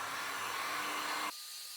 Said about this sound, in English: we're going to grab our heat gun.